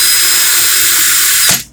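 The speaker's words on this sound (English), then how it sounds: "put my drill in forward. I'm going to hold my swivel hook." A power drill running in forward to twist wire held on a swivel hook gives a steady, loud, close whine that cuts off abruptly near the end.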